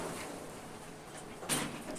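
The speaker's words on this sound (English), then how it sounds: "Those door sounds were also mine." Elevator doors in a skyscraper-building video game slide open and shut, with one sharp clunk standing out briefly against a quiet background hum.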